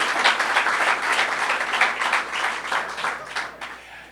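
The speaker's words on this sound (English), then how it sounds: "give her a big round of applause for the Dirty Dancing Award" Crowd at a Middletown, New York event with the governor applauding an award winner, steady dense clapping at moderate loudness that slowly tapers off.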